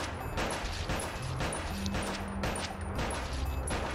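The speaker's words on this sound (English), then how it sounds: "I'm shooting the pepperoni off the pizza!" Sustained gunfire rattles out in rapid bursts during a shootout in the Bad Boys: Miami Takedown video game. It is dense and continuous over a steady low game soundtrack.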